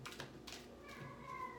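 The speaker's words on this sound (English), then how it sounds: "the cat came back with his meow" A house cat gives a short meow, with a clear drawn-out tonal cry near the end, heard close and moderately loud over faint background noise.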